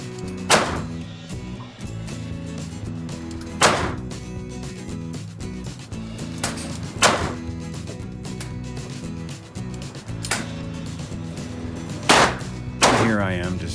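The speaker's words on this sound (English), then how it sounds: "We fired 200 rounds through the SIG 10 mil." Sig TACOPS 1911 10mm handgun fired outdoors at a range: five sharp, loud single shots spaced a few seconds apart, each trailing a short echo.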